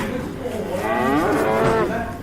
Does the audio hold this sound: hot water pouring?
no